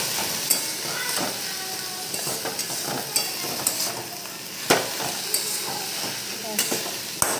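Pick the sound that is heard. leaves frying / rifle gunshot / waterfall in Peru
leaves frying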